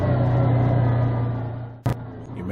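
Off-road vehicle engine droning steadily while driving a desert mountain trail near Picketpost Mountain and Telegraph Canyon, loud and close, with a sharp brief knock or bump near the end.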